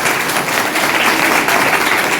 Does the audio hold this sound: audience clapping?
yes